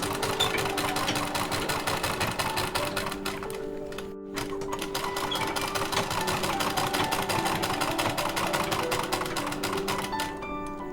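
A sewing machine stitching orange fabric runs in a steady, rapid mechanical clatter, close and continuous, with one brief pause near the middle before it picks straight back up.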